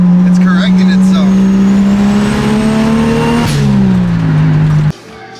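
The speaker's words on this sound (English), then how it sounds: "It's hitting fuel cut." A 1000hp Corvette engine holds a loud, steady high rev with a stuttering, clipped edge as it bounces off fuel cut, then the note drops and cuts out abruptly near the end; people talk over it.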